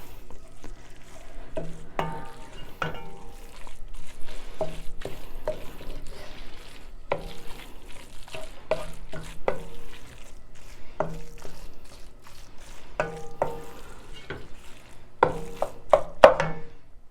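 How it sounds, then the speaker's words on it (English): Grated cheese is stirred into a snack mixture in a pan to melt, with repeated spoon scrapes and soft knocks against the pan coming in irregular bursts over a quiet background. "I'm gonna stir this in and let that cheese melt"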